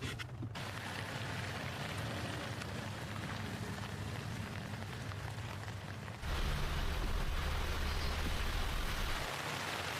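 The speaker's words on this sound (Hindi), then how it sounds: "कैंपसाइट पर पहुंचते ही बहुत तेज बारिश शुरू हो गई है।" Heavy rain pours down steadily on a snowy mountain campsite in a dense, hissing wash, growing even louder and fuller partway through.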